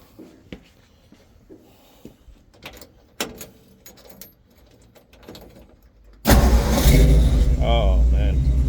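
A 1958 Ford F100 truck engine cranks and fires up after several seconds of quiet clicks and small handling noises, then settles into a loud, steady idle close by.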